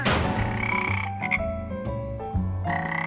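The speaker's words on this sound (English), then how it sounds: "The answer is... a frog!" A cartoon frog croaks in a children's animated show, a run of loud, close croaks over roughly three seconds, alone with no talking.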